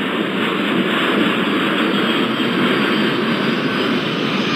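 Jet airliner engines roaring steadily during takeoff in the airport management game Airport Madness 4, a loud continuous rumble with no voices.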